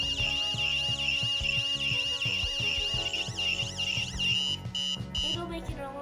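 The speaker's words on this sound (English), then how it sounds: "It'll make an alarm noise." Arduino Uno parking sensor alarm buzzer sounding a warbling, repeating electronic tone that rises and falls steadily, moderately loud, with a tonal pattern pulsing underneath before it cuts off near the end.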